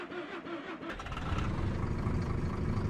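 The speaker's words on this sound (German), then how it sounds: "Dann machen wir Motor an." A Rocar U412-260 bus engine in the OMSI 2 driving simulator cranking over and catching, then settling into a steady low rumbling idle, heard close and alone.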